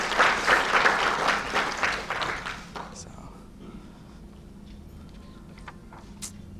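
Audience applause at a conference fills the first three seconds with dense, fairly close clapping that quickly fades out, leaving a quiet room with faint scattered sounds.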